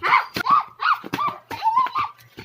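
Puppies make short high yips, whimpers and squeaky barks in close, rapid bursts, with a faint low hum underneath.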